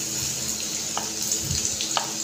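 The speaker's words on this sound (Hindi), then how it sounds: "ये गर्म हो गया है अब इसमें हम बारीक कटा हुआ लहसुन डाल देंगे" Finely chopped garlic sizzling in hot desi ghee in a kadai, a steady bright crackle with small pops and a light stir close up.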